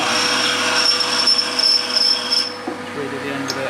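A machine refaces a valve from a VW 1.9 TDI cylinder head with a steady, high grinding whine that runs evenly, then drops away to a quieter hum near the end.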